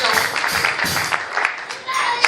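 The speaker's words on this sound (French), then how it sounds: "Applaudissons pour la gloire de Dieu" A church congregation at an ordination service in Portland, Maine, claps and applauds steadily, a dense wash of many hands with voices and cheering mixed in.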